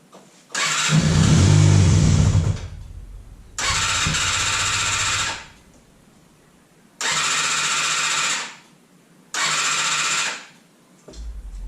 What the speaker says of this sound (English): let's see if it'll start on the choke